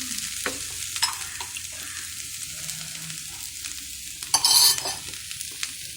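Boiled potatoes stirred into masala frying in a pan for potato bonda give a continuous low sizzle, with scattered spoon taps and one louder burst of crackling scraping near the end.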